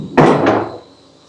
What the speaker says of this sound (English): Now the door shuts across this way, and that slams locked.